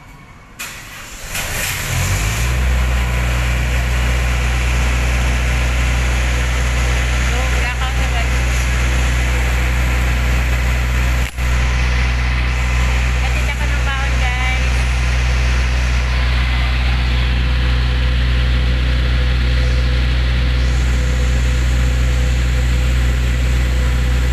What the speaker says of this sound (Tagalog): Open yan ni Bebe yung generator.